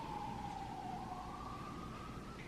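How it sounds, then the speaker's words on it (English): An ambulance siren on a New York City street wails faintly in the distance as one slowly rising tone over a steady background hum. "And the ambulances."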